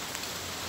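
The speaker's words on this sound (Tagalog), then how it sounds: "Malakas yung ulan mga paps" Heavy rain pours down outdoors in a steady, dense, loud hiss with no gaps, filling the whole moment alone.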